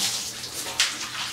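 Water pours over a dog being rinsed in its bath, a brief close splashing gush with a louder surge partway through.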